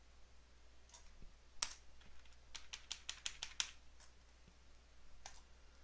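Light taps on a computer keyboard, heard as a quick run of crisp, separate clicks in the middle plus a few isolated keystrokes before and after, faint and close in a quiet room.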